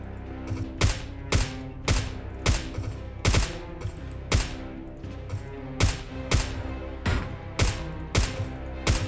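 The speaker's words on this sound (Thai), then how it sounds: "อุ้ยเพื่อนยิงใครเนี่ย" Gunfire in an online shooting video game: a series of sharp, sudden shots, singles and short bursts, firing at irregular intervals against a low background hum.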